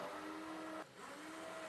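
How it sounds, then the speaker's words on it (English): A blender whirs through thickening deer tallow soap, a steady motor hum that dips and strains partway through as the mixture stiffens, quiet and close. "It's getting harder to mix with the blender."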